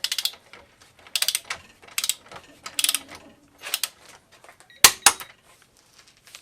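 A DIY right-angle ratchet driver, converted from air to electric and set to 50 foot-pounds, runs in six short whirring ratcheting bursts with brief pauses between them, ending in a sharp clack, close and alone.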